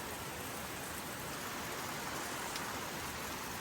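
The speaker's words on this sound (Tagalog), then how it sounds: "Maulan na Lunes. Rainy Monday, everyone." Steady rain falling on a rainy morning, a dense, even hiss that stays constant and moderately loud throughout with no voices.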